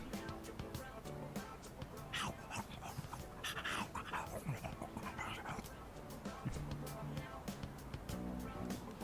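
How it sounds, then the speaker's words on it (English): A stray dog in Persona 3 Reload pants and whimpers weakly in poor condition, soft repeated whines and yips over a quiet game background with speech-like sounds mixed in. "It's that stray dog that chased the boy around the other day. It looks like he's in bad shape."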